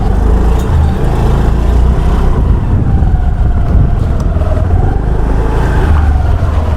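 Motor vehicles streaming past on a road near a bridge, with dense, loud, steady rumble and traffic noise close by, and no voices.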